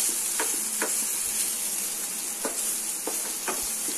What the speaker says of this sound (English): Fry till the tomatoes turn mushy.